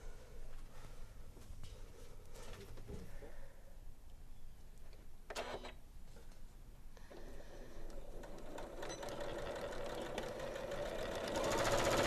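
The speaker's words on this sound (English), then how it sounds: "sewing a 1/2 inch seam allowance down one side" A Janome sewing machine runs steadily, stitching a half-inch seam along a bag strap with a continuous motor whir that grows slightly louder toward the end, with no voices.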